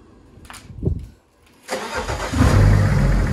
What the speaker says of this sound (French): Vas-y, tu peux démarrer l'auto, Mio.